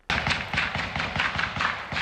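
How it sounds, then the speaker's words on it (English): A burst of rapid gunfire comes from a home on a residential street, a quick run of sharp, close cracks fired in fast succession. "more rapid-fire rounds came from a home at 263 Oaklawn Avenue"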